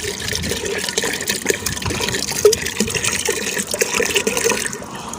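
Water poured steadily into a clay pot holding chickpeas, a continuous close splashing and gurgling fill with no talk over it.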